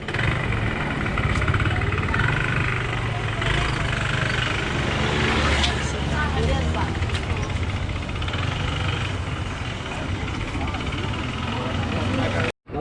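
A motorcycle ridden in Madagascar gives a steady, loud engine drone mixed with rushing road and wind noise, continuous for the whole stretch, with voices underneath.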